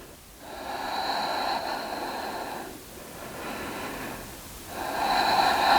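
A person breathes during a seated yoga twist in a beginner session, taking three long, slow, audible breaths close by, with no talking.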